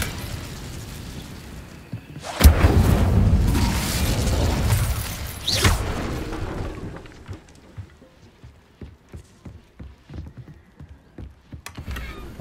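Incendio fire spell cast in Hogwarts Legacy: a sudden loud whooshing burst of flame that roars for several seconds and then fades into quieter clicks and ambient game sounds.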